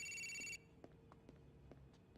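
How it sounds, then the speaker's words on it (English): A phone ringing in Grand Theft Auto IV, a bright electronic trill for about half a second that cuts off abruptly, leaving faint soft taps and low background hum. "The phone's ringing."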